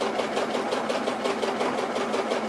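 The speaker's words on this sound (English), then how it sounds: "But once I start sewing, it's gonna come down and it's gonna sew." A Juki HZL-DX7 sewing machine stitches through fabric, giving a steady, close, fairly loud mechanical whir with a fast, even stitching pulse and no voices.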